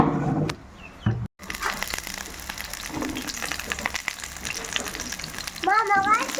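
Pointed gourd (potol) dropped into hot oil and frying, a steady close crackling sizzle that runs through, with a brief gap near the start and stirring scrapes.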